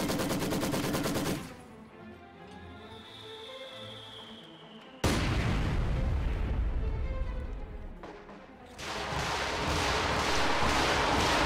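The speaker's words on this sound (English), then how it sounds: "And a Stuka has just hit the field as well." Stuka dive bomber strike in a video game battle against Soviet team weapons: loud sustained roaring blasts and rumbling explosions, a quieter lull with a faint whine, then another sudden heavy barrage that rolls on to the end.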